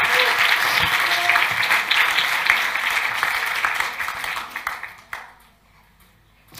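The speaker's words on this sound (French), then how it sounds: "vous pouvez continuer à applaudir pendant qu'on pose" Audience applause at an art prize ceremony at the Salon de Montrouge, steady dense clapping that thins out and fades near the end, leaving a brief quiet.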